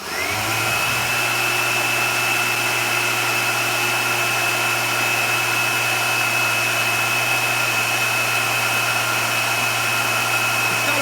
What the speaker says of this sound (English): Pretty strong fan.